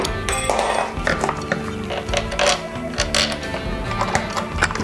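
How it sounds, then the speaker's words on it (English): Metal parts and hardware clink and rattle as handlebars are fitted onto a Himiway Escape Pro step-thru electric bike, with repeated close ratcheting and knocking sounds of assembly throughout. "Put the handlebars on."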